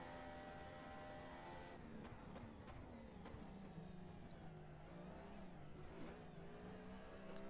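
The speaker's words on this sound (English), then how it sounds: "The onboard engine sounds really good." Onboard engine of a 2014 Formula 1 car in a racing simulator mod, a steady high-pitched turbo hybrid whine rising and falling through quick gear shifts, constant and alone with no talk.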